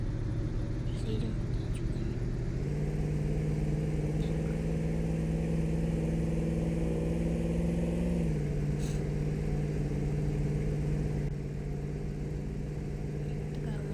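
Video game car engine with a steady mid-pitched drone that rises in pitch as the car revs while driving and drifting, continuous and prominent, with a voice talking over it.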